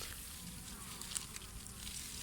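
A dense, steady drone of many honeybees buzzing at a hive where pesticide-poisoned bees are dropping out, close by and continuous with a few slightly louder moments.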